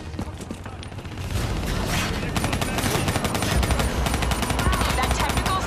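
Dense automatic gunfire rattles nonstop in a Call of Duty: Black Ops 3 campaign battle, loud overlapping bursts over low rumbling booms, a continuous wall of combat noise.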